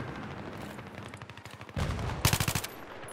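Battlefield 3 gunfire: a stretch of rapid automatic bursts followed by louder, denser volleys of shots in the second half, with no talking.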